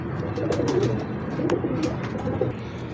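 Ferozpuri pigeons coo softly in low, rolling repeated calls, close by, with a few faint clicks and rustles in the background.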